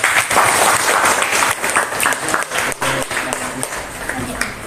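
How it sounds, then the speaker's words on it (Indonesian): An audience in a classroom guidance session claps, the applause dense and continuous at first, then thinning into scattered clapping with some talk underneath. "beri aplaus sama yang depan yuk"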